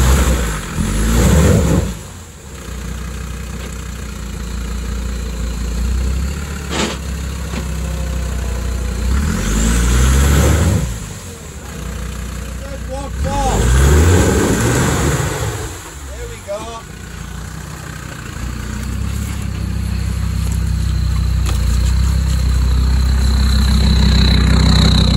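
An off-road vehicle's engine idles and surges while squeezing through a tight, overgrown green lane with its back wheels stuck, a steady mid-pitched drone rising in a few pushes, with people talking over it.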